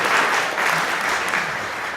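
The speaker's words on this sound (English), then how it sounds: "give yourself a round of applause" An audience at a San Antonio poetry open mic applauds, a dense, loud, even wash of clapping that holds steady throughout the short stretch.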